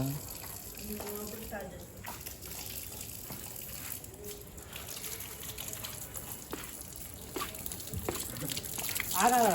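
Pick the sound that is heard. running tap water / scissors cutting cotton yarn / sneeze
running tap water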